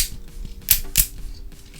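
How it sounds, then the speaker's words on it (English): Ratchet joints on the legs of a TFC Leviathan Rippersnapper Transformers figure give a few small, sharp plastic clicks close up, with two crisp snaps standing out over quiet handling noise. "There are ratchets on the legs."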